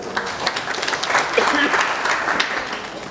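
Indoor audience at a national student organization consultation applauding a branch chairman, a dense steady patter of many hands clapping for about three seconds, fairly close and loud.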